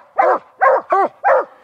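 A coon dog gives four loud, close barks in an even rhythm, each short and harsh with a slight whining edge, with no voices over them.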